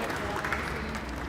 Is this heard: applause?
yes